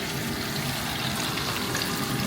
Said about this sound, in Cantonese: 炸魚